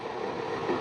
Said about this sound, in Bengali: ও এই ট্রেনটা আসছে